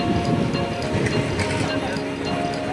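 A train at Udgir railway station, a continuous loud rumble with rhythmic rattling of wagons close by, with people talking over it.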